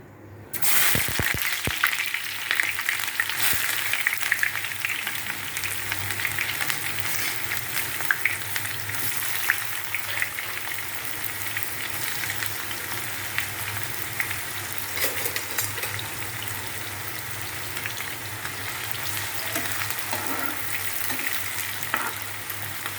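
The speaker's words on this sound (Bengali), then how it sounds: "তেলটা গরম হয়ে আসছে, এখন পেঁয়াজগুলো দিয়ে দেব," Sliced onions fry in hot oil to make crisp berista for chicken biryani, a loud, constant sizzling hiss after an initial drop-in, with occasional stirring clatter, heard close and alone.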